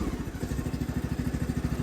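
A ride-on lawn mower engine with a tractor-style seat runs close by, a steady rapid low chugging throb with regular pulses and no talk over it.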